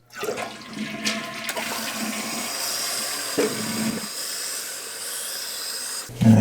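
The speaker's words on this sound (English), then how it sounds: "Let's make sure it flushes." A toilet with a newly replaced flapper flushes loudly up close, a rushing swirl of water that settles into a steady hiss of the tank refilling, ending with a brief louder splash.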